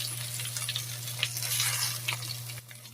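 Boneless milkfish (daing na bangus) fries in oil in a pan, with a continuous bright sizzle, a low steady hum underneath and a few scraping clinks from a utensil.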